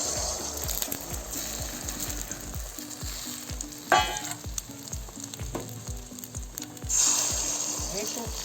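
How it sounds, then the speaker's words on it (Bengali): An egg omelette frying in a pan, with a steady crackling sizzle over a rhythmic low thumping, a brief burst near the middle and a louder hiss near the end. "একটা আমলেট ভেজে নেব একটু"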